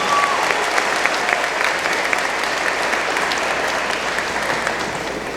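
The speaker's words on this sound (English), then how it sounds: "Let's give all of our students a round of applause." Audience applauding eighth grade students at an awards ceremony, a dense continuous clatter of many hands clapping at steady loudness throughout, with crowd noise mixed in.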